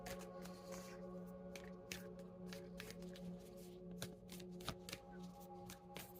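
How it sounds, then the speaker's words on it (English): Tarot cards being shuffled by hand at close range, a steady run of soft riffling flutters and light slaps with a constant low hum behind them. "Three shuffles for group 2."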